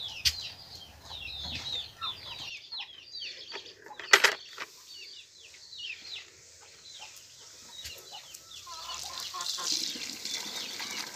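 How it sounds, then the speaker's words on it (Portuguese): Chickens and young chicks clucking and chirping in a farm animal pen, a steady busy mix of calls with one brief louder squawk, no talking. "as criações estão sempre aqui conosco, ó. Galinha. Tem franguinho."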